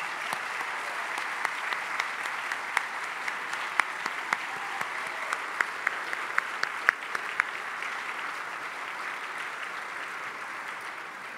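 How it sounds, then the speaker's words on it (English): Steady applause from a banquet audience at the International Thriller Writers awards dinner, honoring co-founders David Morrell and Gail Linz; dense clapping sustained evenly for several seconds with a few sharper individual claps standing out. "Let's give them a round of applause."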